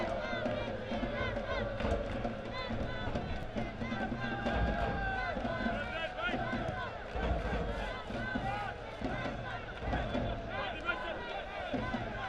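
Soccer supporters at City Stadium in Richmond, led by the Red Army, keep up a steady roar of chanting and crowd noise, distant and continuous across the whole stretch.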